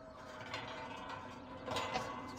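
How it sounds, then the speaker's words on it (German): A farm gate swinging open in Landwirtschafts-Simulator 17, a continuous mechanical creaking and rattling with ratchet-like clicks, moderately loud with a swell near the end. "So, mal eben vorne das Tor aufmachen,"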